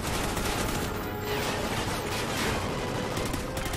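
Dense, continuous gunfire from the video game Call of Duty: Ghosts campaign, a steady wash of overlapping shots and bursts with no clear gaps, loud and sustained throughout.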